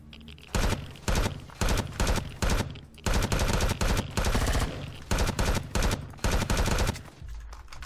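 Gunfire in the Empyrion video game: loud repeated automatic bursts in rapid succession, several sustained volleys separated by short gaps, close and dominant.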